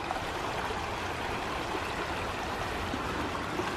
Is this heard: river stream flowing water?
yes